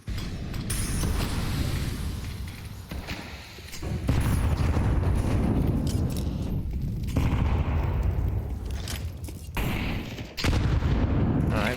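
Rifle fire in Counter-Strike 2 during a professional tournament match, repeated sharp shots and rapid bursts cutting through a loud, busy game mix with mechanical clatter.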